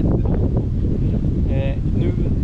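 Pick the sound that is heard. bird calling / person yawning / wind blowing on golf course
wind blowing on golf course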